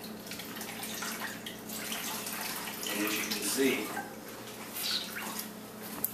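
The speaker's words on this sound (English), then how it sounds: "I'm just gonna rinse this in the soft water" Fabric being rinsed under running soft water, a steady splashing pour that runs the whole time beneath a person talking.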